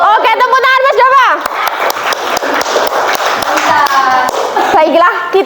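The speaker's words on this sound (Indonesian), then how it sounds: "tepuk tangan Mas Dava" Classroom students clap for a classmate with regular, sharp claps, mixed with loud children's voices and cheering over the top.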